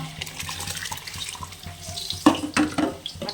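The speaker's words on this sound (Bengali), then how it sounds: "চালটা দিয়ে দিচ্ছি জলের ভিতরে" Soaked India Gate basmati rice is tipped into water for chicken biryani, producing close watery splashing and pouring with a few louder sloshes near the end, no talking.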